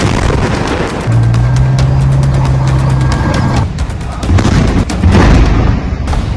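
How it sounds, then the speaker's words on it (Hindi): Israeli artillery cannons fire in heavy, booming blasts amid a loud, dense rumble that barely lets up, with a brief steady low drone partway through and no voices. "इजराइल का तोप से हमला।"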